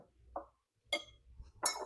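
A spoon clinks against a bowl while scooping cream cheese Danish filling, three brief, separate clinks spaced apart in a quiet room.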